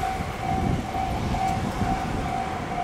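A Tobu 1050 series local train on the Noda Line passes between Tsukada and Shin-Funabashi, giving a steady rolling rumble with a thin, constant motor whine above it.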